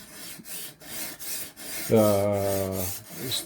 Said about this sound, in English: Right now I'm just removing mostly the burr from the other side and a little bit of light scratching that was left from the previous stone.